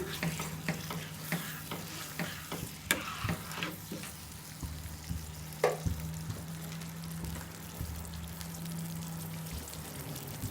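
Salted masala egg curry gravy cooks in a pan, giving a soft, steady sizzle broken by scattered clicks and scrapes of stirring, fairly faint and close, without speech.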